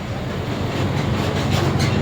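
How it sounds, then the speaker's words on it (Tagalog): A loose engine with excess clearance runs with a continuous mechanical rumble and a dense rattling texture throughout, close and fairly loud, with no speech. "may clearance, magalaw, maingay yung makina niyan."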